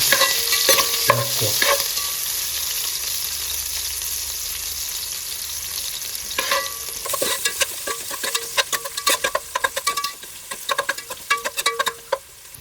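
Finely chopped medium onion frying in hot fat for ghee rice: a strong continuous hiss with a few early clatters, then a run of rapid spatula scrapes and knocks against the pan, no voices.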